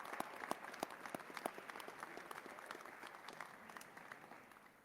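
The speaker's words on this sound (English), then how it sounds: "So let's give them a round of applause and thank them for their hard work." Audience applause at a Georgia budget signing ceremony, fairly faint, with many hands clapping in a dense patter that gradually thins and fades over several seconds.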